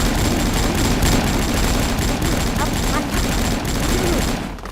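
Rapid, continuous gunfire in a shooting video game, dense overlapping shots firing in quick bursts at loud, steady volume from start to near the end, with faint talk mixed underneath.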